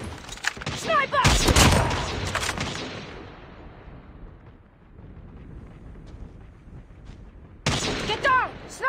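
Sniper rifle shots in the mobile shooter game Call of Duty: Mobile, a loud burst of sharp gunfire blasts up front, a rumbling decay, then another sudden shot near the end, with game voice callouts shouting over the action.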